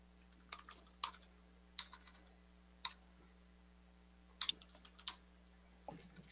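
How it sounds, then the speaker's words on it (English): Keys clack on a computer keyboard in a quiet room as someone types a genealogy census search, a handful of sharp, uneven taps and short bursts spread across several seconds with long pauses between them. "Oh, I'm having a hard time typing."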